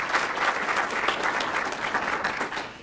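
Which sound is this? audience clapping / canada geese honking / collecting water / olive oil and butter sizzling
audience clapping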